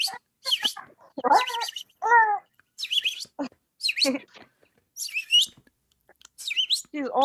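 A person imitates a bird's chirping and tweeting for a baby, a run of short, high, whistly chirps coming in bursts with brief gaps, close and fairly loud.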